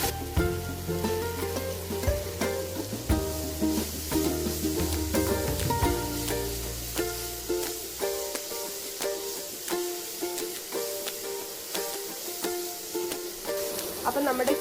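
Mushrooms fry in a pan, giving a steady sizzle with rhythmic stirring scrapes that continue throughout. A voice talks over the first half.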